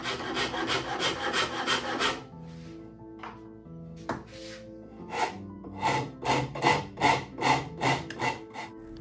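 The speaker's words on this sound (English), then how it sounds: "To find the final fit between the boards and the bolts, I'm using a Shinto saw rasp" A Shinto saw rasp filing wooden boards for a DIY arrow magazine, brisk rhythmic rasping strokes close by, a pause with a few light knocks, then another run of even scraping strokes, with no talking.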